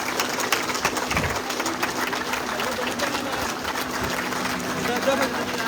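Sustained applause from a seated audience at a public gathering, dense and steady throughout with no clear break, with crowd voices mixed in.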